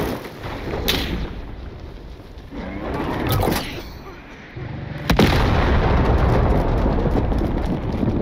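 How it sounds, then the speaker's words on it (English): Heavy gunfire and explosions in Warzone, sharp cracks and booming blasts breaking through a rumbling battlefield, with a couple of loud bursts and a sustained heavy roar near the end. "Watch out, they're heavy fire here."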